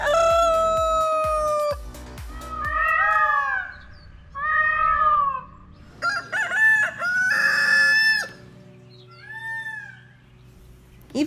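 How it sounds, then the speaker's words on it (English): A rooster crows several times in drawn-out calls, loud and fairly close, on a farm with a peacock, with other squawking bird cries between them and little background noise. "waking up at 5 a.m. to the sound of a peacock and a rooster."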